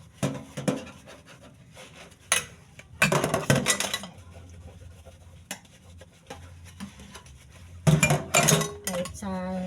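Leftover dishes, pots and pans being washed after a simple home birthday meal: repeated clattering and clinking of metal cookware and cutlery, with louder bursts of banging between quieter rinsing and handling, close by and without talk.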